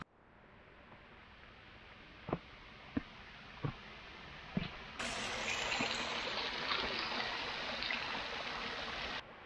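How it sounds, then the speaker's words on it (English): A small trickle of water runs near a waterfall in a boulder field, a faint steady wash that grows fuller midway, punctuated by a few sharp knocks. "Well, I hear a little bit of water, so there must be some"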